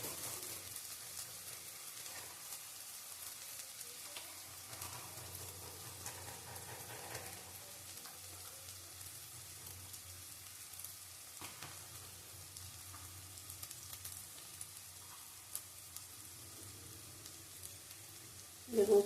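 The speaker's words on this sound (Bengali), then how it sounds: "এর মধ্যে পেঁয়াজ কুচি দেবো।" Chopped onion frying in a pan hisses and sizzles at a low, even level, a soft crackle running throughout, with a brief louder knock right at the end.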